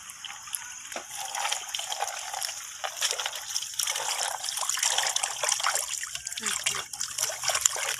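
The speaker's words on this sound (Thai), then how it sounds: "มาถึงขั้นตอนการล้างนะครับ" Freshly harvested peanuts being washed in water, a continuous close trickling and sloshing with small splashes throughout, steady and moderately quiet.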